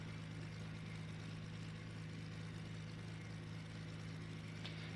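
Steady low engine drone of a Beech BE60 Duke twin piston aircraft in a flight simulator, running evenly at idle on the ground with a constant hum and faint background hiss throughout.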